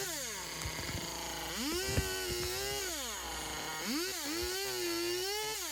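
Chainsaw trimming the arms of a wooden welcome bear carving, the engine whining and rising in pitch as it bites into the wood, then settling to idle between cuts, close and continuous.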